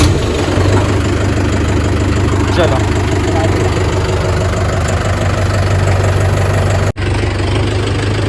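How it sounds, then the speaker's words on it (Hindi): A Mahindra tractor engine idles close by in a loud, steady diesel chug with knocking, briefly cutting out near the end; someone speaks over it. "चल चालू कर ट्रैक्टर ला"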